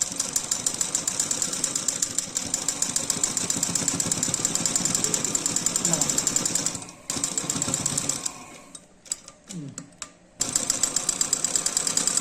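Steady rapid clatter of a sewing machine stitching a kurta, running loud and close, pausing briefly around the middle with a few clicks, then resuming at full speed.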